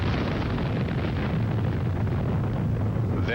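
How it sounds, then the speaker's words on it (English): Mount St. Helens volcanic eruption explosion, a dense, loud, sustained low rumbling roar that fills the whole stretch without letup. "an explosion erupts with the power of 500 atomic bombs, blowing away the face of the mountain."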